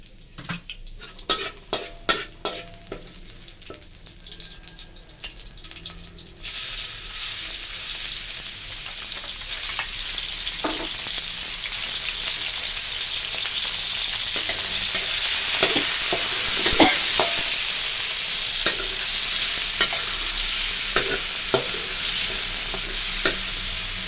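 Broccoli and pork being stir-fried in a pan, with steady sizzling and repeated stirring scrapes that grow louder after the first few seconds, continuing without talk.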